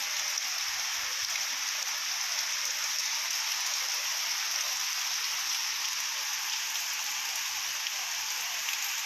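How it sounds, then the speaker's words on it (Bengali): Heavy morning rain in Berhampore pours down in a dense, steady hiss with no pauses. It stays loud and even throughout, with no voices over it. "দেখুন বৃষ্টির গতিবেগ দেখুন"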